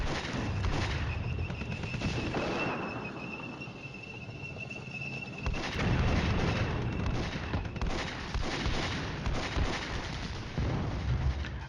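An artillery strike in the Cold War wargame Flashpoint Campaigns, a continuous rumbling barrage of booms and crackling blasts that swells and settles at a steady loud level, with no talking.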